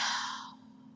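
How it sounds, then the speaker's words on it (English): A single breathy yawn, loud at first and trailing off as the exhale fades within about a second. "Big yawn out."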